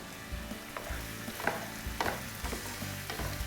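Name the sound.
soaked raisins thrown into a hot pan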